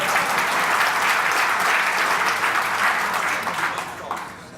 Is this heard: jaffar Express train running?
no